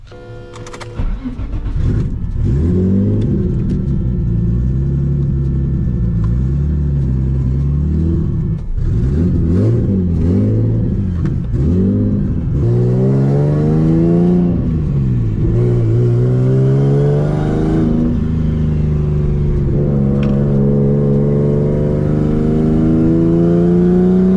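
A boosted Nissan Z car engine on a dyno with a Tomei exhaust starts and revs hard repeatedly toward 8,000 RPM, pitch climbing and dropping in long sweeps, loud and close throughout with no talking.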